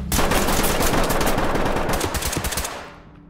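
Sustained automatic gunfire in the tactical shooter Ready or Not, a dense, loud, continuous burst of rapid shots close by that rattles on for about three seconds before tapering off.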